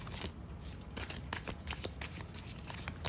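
Tarot cards being shuffled up close before four are drawn: a dense, continuous riffling flutter with quick slaps and flicks throughout.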